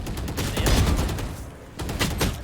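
Rapid gunfire spam in the tactical shooter VALORANT, a dense burst of repeated shots with a brief lull before another volley, loud and close.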